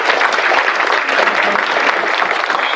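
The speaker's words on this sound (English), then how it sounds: "let's give her a round of applause" A room full of people gives continuous, even applause at a public health event in Tarrant County, sustained and loud without a break.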